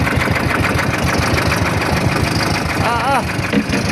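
A boat engine chugs steadily in a low rumbling drone, close by, while voices talk over it, amid large waves.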